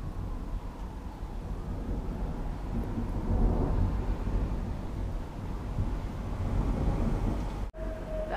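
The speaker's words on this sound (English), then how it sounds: "That's a long thunder." A long, continuous low rumble of thunder rolls through a Toronto storm, steady and heavy for several seconds with a brief break near the end.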